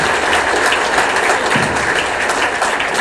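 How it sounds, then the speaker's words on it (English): Audience applause fills the hall at a live open-technology conference event in Manchester, a dense, steady burst of clapping sustained loudly for the whole moment with no talking. "let's give these people a round of applause"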